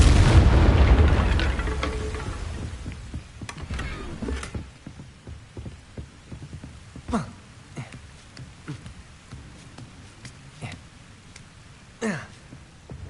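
A Confringo blasting spell detonates in Hogwarts Legacy on PS5 Pro, a loud booming explosion at the start that decays over a few seconds, followed by quieter scattered impacts and a couple of sharper hits later.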